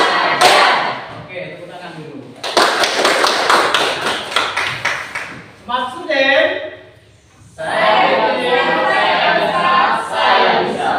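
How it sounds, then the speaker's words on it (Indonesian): A class of students clapping hands in a classroom, with rhythmic patterned clap sequences, sharp rapid bursts of claps in the middle, and a teacher's voice speaking between rounds. "Oke, tepuk tangan dulu."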